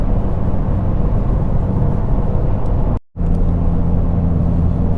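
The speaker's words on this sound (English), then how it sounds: "this is a third gear pull for the data log" A 2017 Ford Focus RS engine roars loudly and steadily in a third-gear pull, cutting out abruptly for a moment before resuming just as strong.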